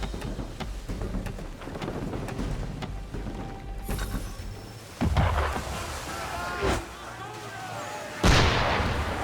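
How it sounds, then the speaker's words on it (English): Gunfire hits a ship in Assassin's Creed 3, with several loud, sharp booming shots and blasts over a steady rumbling, stormy background, the heaviest crack near the end. "Why is he shooting at us?"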